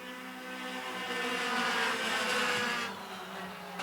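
Race cars roaring around a track in a steady, continuous engine drone that swells loudly mid-pass and then fades slightly, heard alone without talk.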